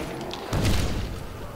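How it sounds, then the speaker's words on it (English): A grenade blast in Call of Duty: World at War, a single loud low boom that swells suddenly and then rumbles on before fading slowly. "I probably didn't need to throw that grenade, but I almost just killed myself"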